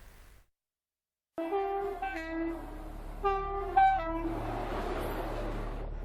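A train running on railway tracks sounds several loud, clear horn blasts, followed by a rising rumble and hiss of the passing carriages.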